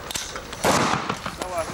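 Gunfire at a military shooting range, heard as a few sharp reports under nearby talk and shouted commands, one louder blast standing out in the middle.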